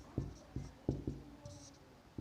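Chalk or marker writing on a board during a physics class, a series of short scratchy taps and strokes at an uneven pace, fairly faint and alone.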